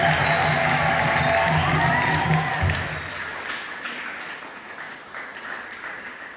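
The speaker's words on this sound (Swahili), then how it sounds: "Naomba tumpigie Mungu makofi makubwa." A church congregation bursts into hearty applause and cheers of praise for God during a sermon. The clapping is loud for a few seconds, then quickly thins and dies away into scattered claps and faint crowd murmur.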